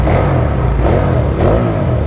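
A Honda Titan 150 motorcycle fitted with a V-twin engine runs at a steady low idle, a continuous deep rumble with slight pulsing, close and fairly loud throughout.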